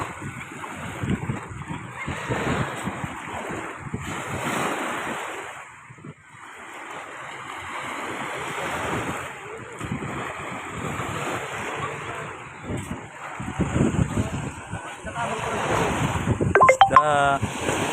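Surf rolls in and recedes in long swells, with gusts of wind buffeting the microphone and faint voices toward the end.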